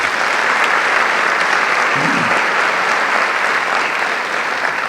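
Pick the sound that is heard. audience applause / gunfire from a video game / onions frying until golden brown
audience applause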